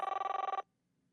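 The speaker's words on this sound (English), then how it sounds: "as the dial tone sounded once" A single electronic telephone ring trills rapidly for about half a second, then cuts off into near silence.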